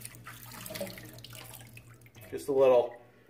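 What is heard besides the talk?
water splashed onto head from hands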